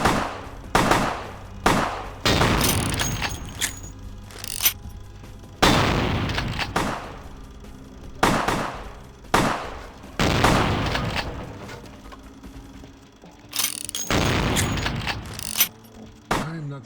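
Gunfire in a shooter video game comes as sharp bursts of shots and booming reports, loud and close, in irregular clusters separated by brief quieter gaps.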